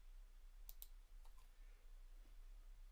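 A few quick, faint clicks of keys on a computer keyboard in a quiet room, a short burst of typing followed by near silence and low hum.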